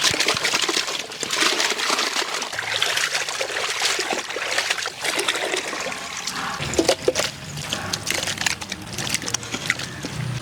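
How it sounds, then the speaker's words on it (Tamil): Chicken for a Dindigul Thalappakatti biryani is washed by hand in water, close-up splashing, sloshing and trickling that runs continuously with uneven surges. "சிக்கனை நல்லா கழுவி எடுத்துக்கலாம்."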